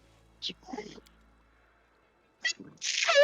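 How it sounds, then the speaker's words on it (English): A single sharp sneeze blasts right into a close microphone during a tabletop role-playing game session, preceded by brief murmured talk and a pause. "Oh, didn't mean to sneeze right into the mic."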